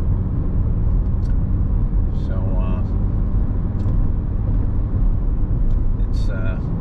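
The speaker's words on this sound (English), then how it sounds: "See, the car tracks down the road beautifully" A 1991 Mercedes-Benz 300D 2.5 Turbodiesel cruises down the road with a steady low rumble of engine and road noise from inside the cabin, with faint brief chirps over it.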